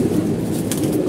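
Pigeons in a loft give a soft, low cooing murmur, close and continuous over a brief moment, with no talking.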